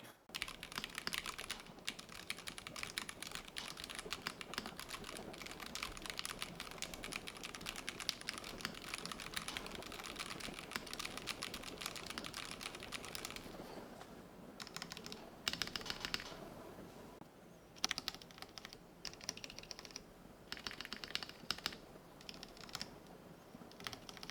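Rapid, continuous typing on a Varmilo Minilo 75 gasket-mount mechanical keyboard with clacky keystrokes, close and steady, pausing briefly a few times before resuming.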